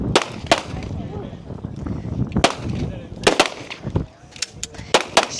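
Sharp pistol shots crack out at a shooting competition stage, a dozen or so quick reports in uneven clusters, close and loud over a background of murmuring voices.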